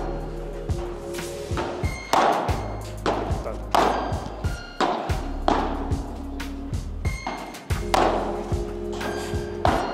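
A padel ball is struck and bounces repeatedly during a court drill, sharp hollow pops and thuds arriving in a quick, fairly regular rhythm with ringing court echoes.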